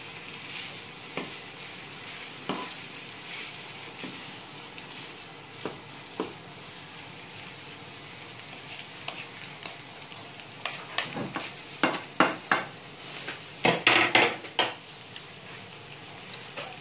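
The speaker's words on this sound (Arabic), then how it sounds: "بس نقلبها مشان الفلفل كمان" Sautéed pasta with peppers is stirred in a pan over a low continuous sizzle. Occasional utensil scrapes and clinks against the pan grow busier and louder toward the end, with no speech.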